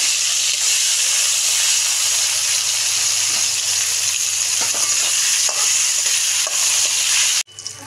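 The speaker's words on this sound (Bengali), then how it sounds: "এই একসঙ্গে সব ভাজা হয়ে যাচ্ছে।" Prawns and kochu greens fry together in a pan with a loud, steady sizzle and crackle, stirred now and then, before the sound cuts off abruptly near the end.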